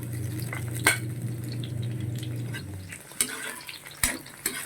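Garlic hitting a hot pan of frying native onions, a low sizzle joined by clinks and scrapes of a utensil against the pan, close and moderate in level.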